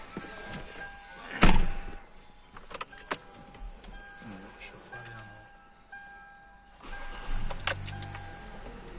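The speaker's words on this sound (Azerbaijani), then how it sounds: "İşə salaq maşına." A Hyundai Elantra car after its ABS unit was replaced: a sharp thunk, then the engine cranking and catching, with key and door clatter and voices faintly in the background.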